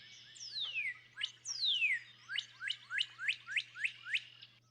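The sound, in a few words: northern cardinal song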